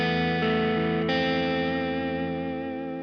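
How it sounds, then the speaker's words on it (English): A heavily distorted electric guitar played through a Fender Mustang Micro Plus or Boss Katana Go headphone amp rings out in sustained chords with a couple of changes, then decays slowly, loud and alone. "Even though it's quite heavily distorted, it had a lot of clarity still retained."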